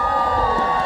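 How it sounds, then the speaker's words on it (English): A large Comic Con Holland crowd in the Brabanthallen cheers and shouts in a dense, sustained roar that fills the hall. "You're gonna cheer."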